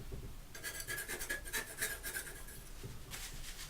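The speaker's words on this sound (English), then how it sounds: "See these edges here, they can be sort of scraped across." A palette knife scraping across the edges of wet oil paint laid over a gouache drawing, a soft, close rasping rub in several short strokes, quiet with no voices.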